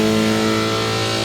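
Drag race car at Maryland International Raceway, engine idling and revving steadily with a strong harmonic drone, loud and close, brief and continuous with no speech.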